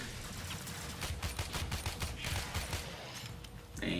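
Pistol gunfire in the video game Warframe, a string of fairly quick, irregular shots mixed with mechanical clanks and game effects, moderately loud over a busy background.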